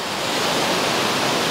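Neer waterfall near Rishikesh pours fast and heavy, giving a loud, steady broadband roar of rushing water with no pauses and no voices.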